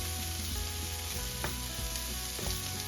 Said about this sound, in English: Let's go ahead and add the cabbage. Stir it up a bit and get a little bit of that bacon